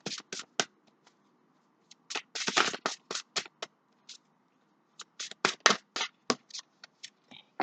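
Tarot cards shuffled and drawn by hand, with quick papery riffles and slides arriving in short bursts separated by pauses, close and fairly quiet.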